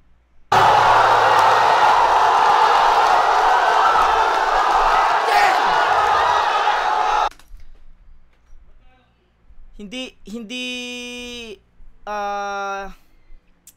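A crowd at a live Filipino rap battle roars and cheers for several seconds, loud and close, then cuts off into quieter moments with shouted voices.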